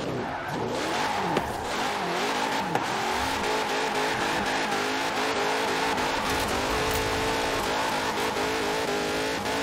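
A Barrett-Jackson Bubble Top car in Forza Horizon 4 revs steadily through hilly bends, its engine note rising and falling with sharp tire squeals, loud and continuous throughout.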